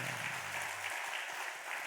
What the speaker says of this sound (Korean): 우리 격려와 응원과 사랑의 박수를 한번.